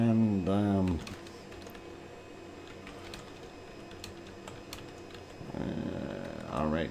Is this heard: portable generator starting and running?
no